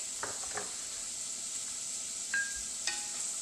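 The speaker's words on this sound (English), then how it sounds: "as that fries up, I'm going to go ahead and add the green onion in" Green onion frying in a pan while making risotto, giving a steady soft sizzle throughout with a few light clinks of utensils against the pan.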